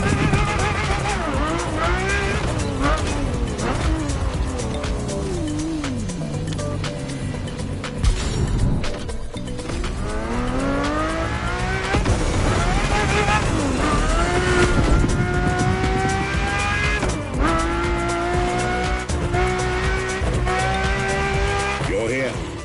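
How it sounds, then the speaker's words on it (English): A Ferrari F50 races in The Crew driving game, its engine revving up and down through gear changes with occasional tire squeal, loud and continuous while someone narrates over it. "nothing less than a road-legal Formula One. A Ferrari"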